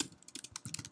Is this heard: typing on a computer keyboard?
yes